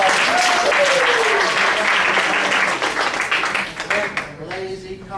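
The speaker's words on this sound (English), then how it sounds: "Give another round of applause." A hypnosis show audience gives a loud round of applause that tapers off into scattered claps, while someone speaks over it and continues as it dies down.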